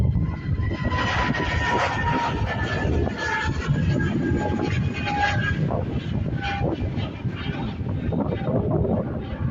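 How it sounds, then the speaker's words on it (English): An Aer Lingus Airbus A320neo in 2019 livery at Dublin Airport, bound for London Heathrow, gives a loud, steady jet roar with whining engine tones that shift in pitch, continuous throughout with no talk. "this Airbus A320neo operated by Aer Lingus with the 2019 livery, heading over to London Heathrow."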